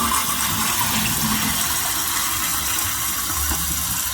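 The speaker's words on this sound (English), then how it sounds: "so let's just flush it and I'll show you." Toilet flushing after fitting a Fluidmaster universal repair kit, a steady rushing gush of water draining and refilling the tank, loud and close with no voices for about four seconds.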